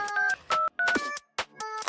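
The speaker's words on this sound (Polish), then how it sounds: "Muszę gdzieś zadzwonić." Touch-tone telephone keypad dialing, a quick series of loud, close DTMF beeps in uneven rhythm with brief gaps between key presses.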